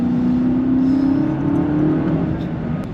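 A BMW G90 M5 fitted with a Valvetronic Designs valved sport exhaust rumbles with a deep, steady engine note at light throttle, loud and close, holding a continuous low drone with slight swells and no talking over it.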